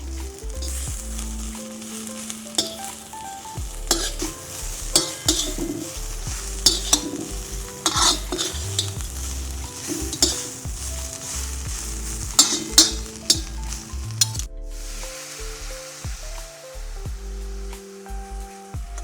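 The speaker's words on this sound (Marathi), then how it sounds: "आणि नंतर भाजलेली भेंडी त्यामध्ये टाकून परतून घ्यायची छानशी." Roasted native spiny okra being stir-fried in a pan on a village wood-fired stove, with steady sizzling and repeated scraping stirs of a utensil against the pan, close and loud.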